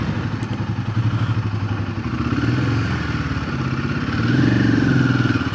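A Royal Enfield Himalayan 450 is ridden at night. Its engine gives a loud, steady thumping rumble up close that rises and falls slightly with the throttle, along with wind and clatter and no talking.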